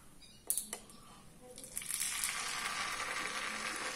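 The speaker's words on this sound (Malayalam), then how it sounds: "ദോശക്കല്ലിൽ എണ്ണ തേച്ചു കൊടുക്കാം." Oil sizzles on a griddle for palappam, a few sharp clicks giving way to a soft, steady hiss that holds to the end.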